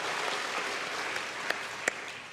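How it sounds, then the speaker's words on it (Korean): At a church's Sunday afternoon service, a congregation applauds the elderly choir with a brief, dense patter of clapping that holds steady, with a couple of sharper claps standing out. "이렇게 귀한 섬김하신 우리 어르신들에게 격려의 뜨거운 박수 한번"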